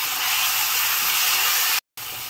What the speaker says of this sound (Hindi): अब ये टमाटर को पकने तक हम भून ले रहे हैं।